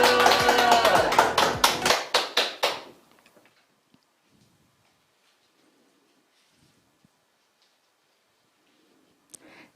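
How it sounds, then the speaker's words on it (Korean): An audience at a Seodaemun residents' assembly welcomes a speaker with a burst of clapping that fades out over about three seconds, followed by near silence. "박수로 모시겠습니다."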